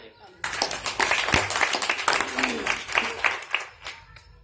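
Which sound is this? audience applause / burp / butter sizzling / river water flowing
audience applause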